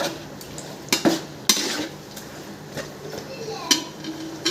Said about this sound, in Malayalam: ഇടയ്ക്കിടയ്ക്ക് നന്നായി ഇളക്കി കൊടുത്തിട്ട് മസാല കൊപ്പാക്കുക.